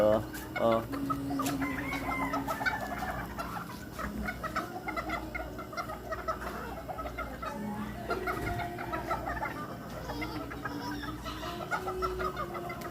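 Chickens clucking in a backyard run with a scratch pen, a continuous busy mix of clucks and calls from several birds, with someone talking over them throughout.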